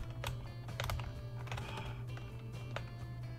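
Fast, uneven typing on a computer keyboard, with sharp clustered key clicks over a low steady hum, close and fairly quiet, with no voices.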